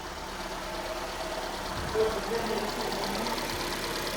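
Running engine of a Hyundai car with a G4NA engine, carrying a steady mechanical gearbox whine and hum, close and even, with a faint brief clunk midway and no speech.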